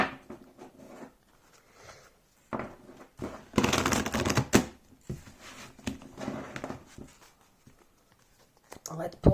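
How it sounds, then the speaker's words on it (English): Crisp riffling and soft slapping of a tarot card deck being shuffled by hand, close up and in several short bursts with pauses between. "Oh, they shuffle wonderfully."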